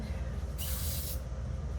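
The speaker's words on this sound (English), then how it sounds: "We'll spray it there." Quick drying adherent sprayed from an aerosol can onto an ankle before taping, a single steady hiss lasting about half a second, close and fairly soft over a low background hum.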